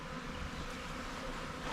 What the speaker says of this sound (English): There's a honeybee hive inside this burrow.